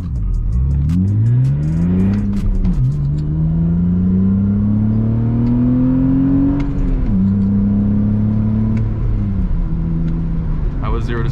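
A BMW E46 engine revs up through several gears during a 0-to-60 pull, pitch climbing then dropping at each shift, loud and steady from inside the car, with a voice occasionally underneath.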